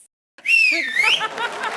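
A person on a comedy show stage lets out a single rising and falling whistle of appreciation, clear and close, lasting about a second and a half.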